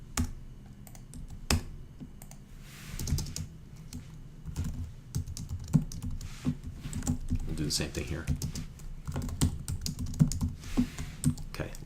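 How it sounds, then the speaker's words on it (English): Fast bursts of computer keyboard typing as code is entered, close and crisp with irregular clusters of key clicks, while someone speaks briefly near the start. "a lot of typing of code here"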